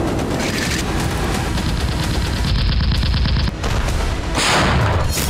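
Heavy gunfire and explosions on a battlefield in Ukraine, with dense rapid bursts and booming blasts running continuously at high level and no one talking.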